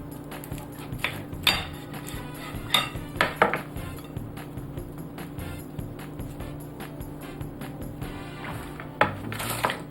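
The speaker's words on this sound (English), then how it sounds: "Let me cut it in half." Knife cutting through a portobello mushroom nut burger on a plate, with clinks and scrapes of cutlery and dishes in a kitchen, several sharp taps over a steady low hum.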